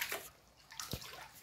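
Floodwater in a flooded room in a house in Karbi Anglong, Assam, sloshes and splashes faintly in a few short, soft bursts over about a second and a half.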